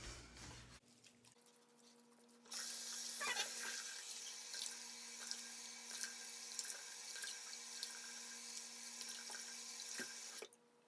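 Tap water runs into a bathroom sink during face washing, a faint steady rush that starts after a couple of seconds of quiet and flows on for about eight seconds before stopping, with no speech.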